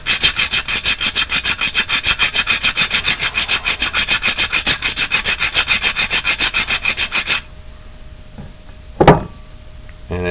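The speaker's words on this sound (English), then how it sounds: "Take the file, go across it." A hand file rasps back and forth across a metal exhaust part in fast, rhythmic strokes, loud and close, about seven seconds of steady filing before it stops and a single sharp clink follows.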